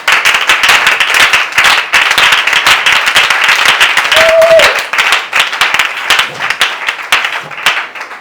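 Loud audience applause at a women's faith conference luncheon in a church ministry hall, dense rapid clapping sustained throughout with a brief cheer or whistle midway.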